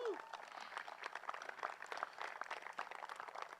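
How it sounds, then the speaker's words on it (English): Outdoor crowd at an Arbor Day celebration applauds park staff, a soft, distant patter of many hands clapping steadily. "So I want you guys to all give our park staff a big round of applause."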